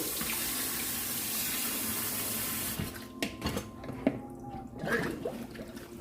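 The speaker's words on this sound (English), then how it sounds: "I'm rinsing the beans" Beans being rinsed under a running kitchen tap: a steady rush of water for several seconds, then the flow stops and gives way to scattered splashes, clinks and handling noises up close.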